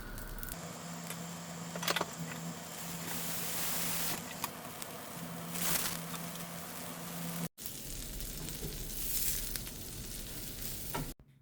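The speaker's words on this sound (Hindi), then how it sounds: "तो ये हमारा बेने डोसा बन रहा है, तो इसलिए हम इस पर डालेंगे बटर।" Benne dosa with butter frying on a hot pan, a steady crackling sizzle throughout with faint scraping and clinks, close by, briefly cut off midway before resuming.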